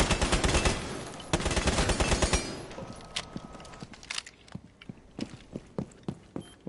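Rapid bursts of gunfire in Rainbow Six Siege, with dense overlapping automatic fire at first, then sparser sharp single shots and short bursts spaced irregularly toward the end.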